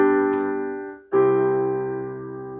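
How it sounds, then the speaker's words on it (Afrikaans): Two sustained chords, voiced as the close of a song, sound one after the other, the first fading before the second rings out, close and clear with no talking. "Ek gaan vir julle 2 akkoorde speel. Dis die einde van 'n liedjie."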